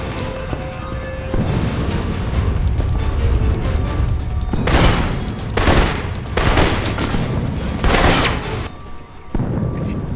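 Sustained gunfire from a shootout with turrets in the Alpha Protocol video game, loud dense bursts of rapid shots and booms repeating over about ten seconds with no talking.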